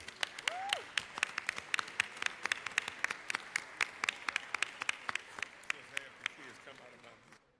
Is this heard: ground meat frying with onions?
no